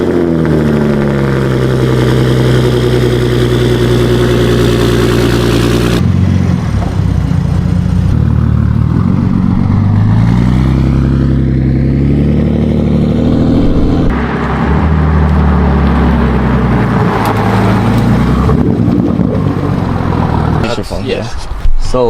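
Toyota MK5 Supra making over 800 wheel horsepower on a short test drive, its engine holding a steady, loud drone with shifts in pitch as it pulls, while people talk over it throughout.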